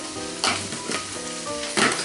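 Green onions sizzling in a hot pan, a close steady fry with a few bursts of louder crackle as they are stirred, and no voices.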